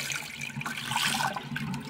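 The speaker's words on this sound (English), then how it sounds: "slowly pouring the top water off" Water is poured slowly off rinsed sand in a container, a continuous close sloshing, gurgling stream with no talking.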